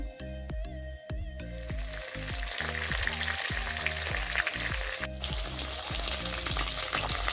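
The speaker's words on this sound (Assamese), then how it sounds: "এতিয়া মাছখিনি ভালকৈ ভাজি আছো।" Fish frying in mustard oil in a wok gives a dense, crackling sizzle that carries throughout, with a regular tonal beat of background music running beneath it.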